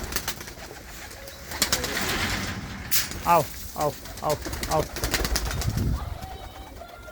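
Desi pigeons coo in a short series of soft, throaty calls close by at evening, over outdoor background noise, while a voice calls out to the birds.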